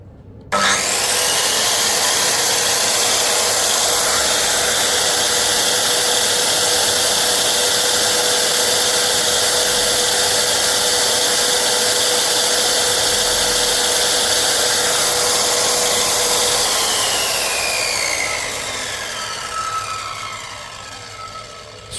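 A Doliz BA117 7-inch circular saw motor spins up and runs without load, a loud steady whine held for about sixteen seconds before winding down and fading.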